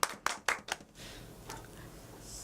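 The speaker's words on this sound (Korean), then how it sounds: "우리 모두 뜨거운 박수를 보내드립니다" Four crisp hand claps ring out in quick succession in a community radio studio, then fade into quiet room tone, close and brief.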